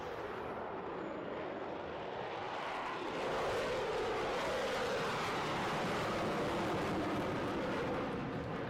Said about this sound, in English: when the afterburners are on, it's loud